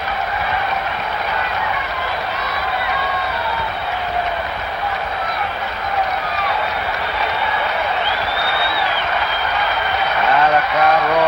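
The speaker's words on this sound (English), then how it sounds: "The crowd roaring." Big ballpark crowd at the 1975 World Series Game 7 in Boston, Cincinnati against Boston, roaring steadily for the whole stretch as a full-count ball four is called with two out in the ninth, swelling slightly near the end.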